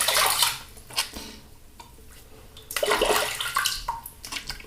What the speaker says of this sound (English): All right, let's rinse off.